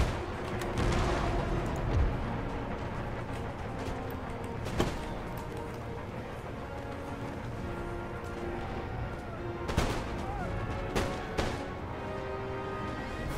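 Musket volleys and artillery fire in the Empire: Total War battle game, sharp scattered reports and heavier booms over a steady rumbling battlefield din, several distinct blasts standing out across the stretch.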